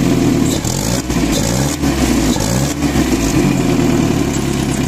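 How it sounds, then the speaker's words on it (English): A Mercedes-Benz W123 with the M115 engine, freshly converted from carburettor to EFI and not yet tuned, idles steadily and close by, a continuous loud rumble with slight uneven wavering and no talk. "So this is the idle."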